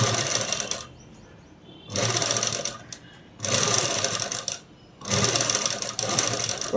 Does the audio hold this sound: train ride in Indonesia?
no